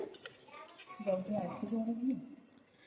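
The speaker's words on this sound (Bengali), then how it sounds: "এবারে নেড়ে চেড়ে দিচ্ছি কলার মোচাটা" A spoon clinks and scrapes against a pot as banana flower and small fish simmer in a curry, with a few sharp clinks at first, then softer stirring under a talking voice.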